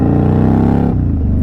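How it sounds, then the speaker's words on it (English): An Indian Scout Bobber motorcycle fitted with an aftermarket exhaust revs up close and loud, a deep, throaty engine drone that holds and then falls off as the throttle closes. "Just with the exhaust, that's all we've done to this thing."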